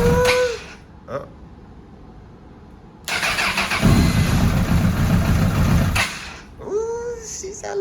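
A wrecked Honda CBR 1000RR sport motorcycle's engine catches after a couple of cranking attempts and runs loud and rough for about three seconds before cutting out, with brief cranking bursts on either side.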